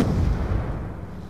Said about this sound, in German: Ich hab ein bisschen Granate geschmissen.